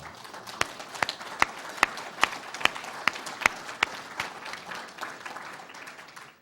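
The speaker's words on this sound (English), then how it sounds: "I think we should give him a round of applause." Applause for a university chancellor at an honorary degree dinner, a sparse room of hands with sharp individual claps standing out in a steady rhythm before thinning and fading.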